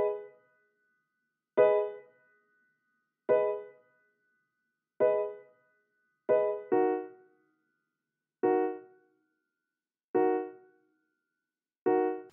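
Jazzy Maverick preset on the Maverick synth in FL Studio playing basic keys triads, eight separate soft chord stabs spaced about a second and a half apart, each decaying quickly into silence.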